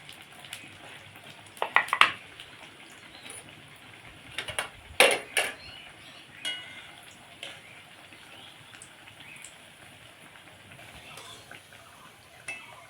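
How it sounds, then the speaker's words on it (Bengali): Semolina biscuits frying slowly in hot oil over low heat, with a soft continuous sizzle, a few sharper clinks and bursts near the start and middle, and otherwise steady bubbling. "এবার বিস্কিটগুলো ভেজে নেব।"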